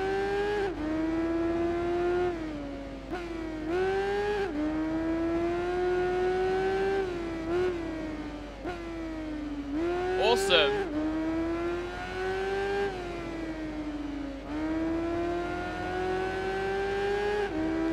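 BMW K1200R motorcycle racing in the Tourist Trophy video game, a loud continuous engine whine rising and falling through gear shifts and revs, with a person talking over it.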